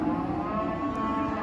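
Cattle at a livestock market moo in a short, low, close bellow.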